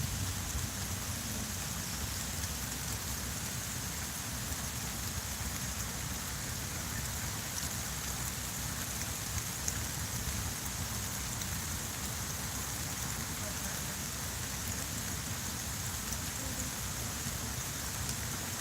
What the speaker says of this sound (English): if this screws up because the rain's on it, it shouldn't screw my phone up